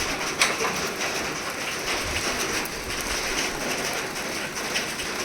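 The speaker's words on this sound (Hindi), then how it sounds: "तो देखे बाहर बारिश हो रही थी।" Steady rain falling outdoors on a breezy evening, a continuous soft hiss with scattered droplet patter, while birds such as doves coo faintly in the background; no one speaks.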